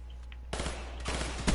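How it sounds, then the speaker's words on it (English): A burst of gunfire in Call of Duty: Black Ops 3 starts abruptly after a quiet moment, with dense rapid shots that carry on to the end and a stronger thump near the finish. "my shot went off right there"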